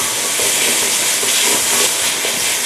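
Garlic and coriander root stir-frying in hot oil, a steady close hiss with faint scraping stirs, no voices.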